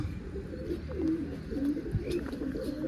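Soft, low pigeon coos repeat a few times close by, over a muffled background hum.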